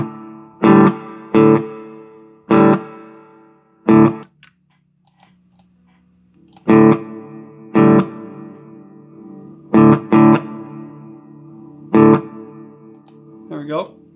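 A guitar runs through a multi-effects pedal with reverb, as in a Sonicake versus FlyRig 5 comparison, and plays separate struck chords whose tails ring briefly and decay between hits.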